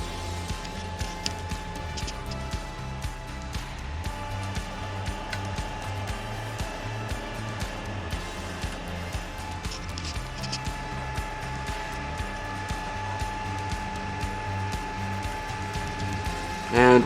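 A Creality CR10S Pro 3D printer runs through its cycle, giving a steady whirring fan drone overlaid with the pulsing, tonal hum of its stepper motors, and a sudden bump near the end.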